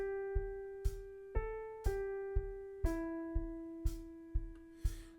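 A synth bass plays steady sustained notes that shift pitch a few times, backed by a regular kick-like thump on the beat, clean and upfront.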